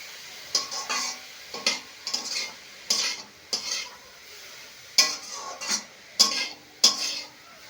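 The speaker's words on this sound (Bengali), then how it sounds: "এইভাবে একটু একটু করে নেড়ে চেড়ে ভাজতে হবে" Grated carrots for carrot barfi stirred and fried in a pan on a gas stove, giving repeated scraping stir strokes with a soft sizzle beneath, fairly close and steady, with no talking.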